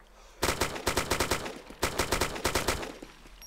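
Gunfire in ARMA 2 DayZ, two rapid bursts of sharp, loud shots in quick succession, separated by a short pause, with no talking over them.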